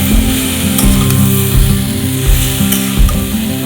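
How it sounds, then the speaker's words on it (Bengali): Drained poha sizzles in a hot pan over medium heat while a spoon stirs it, loud frying hiss overlaid with rhythmic scraping and clinking strokes against the pan, recorded close up. "ভালোভাবে নাড়াচাড়া করতে করতে আমরা এটা মিশিয়ে দেব।"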